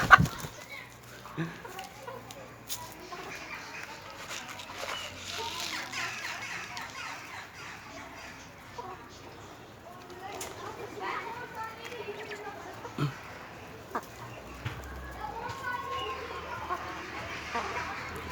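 Sultan chickens, ducks and young turkey chicks in a poultry pen, with scattered clucks and soft peeping calls at moderate distance, running steadily under someone talking throughout.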